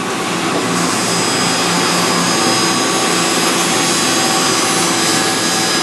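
A Mazak Integrex 200 IIIST CNC machine spins at high speed, around 10,000 RPM, producing a loud, steady whine with a dense hiss and constant tonal lines, unchanging for several seconds with no talk.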